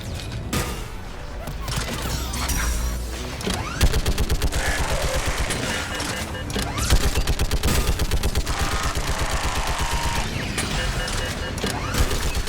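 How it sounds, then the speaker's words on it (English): Rapid turret gunfire in the video game Mass Effect 3, dense bursts of repeated shots cutting through a busy game mix of explosions and effects, loud and close throughout. "We do have a conveniently placed turret."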